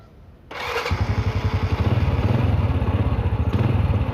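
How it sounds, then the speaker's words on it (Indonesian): A motorcycle fitted with a fingerprint and GPS security system starts right away, then settles into a steady close idle with a rapid thumping exhaust pulse that grows slightly louder, no voices. "Jadi sepeda motor langsung hidup."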